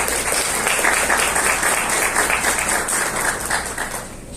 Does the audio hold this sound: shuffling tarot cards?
no